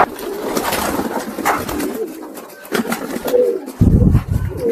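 Golden and Kamaggar breed pigeons coo repeatedly at close range, the soft throaty calls overlapping and rising and falling in bursts.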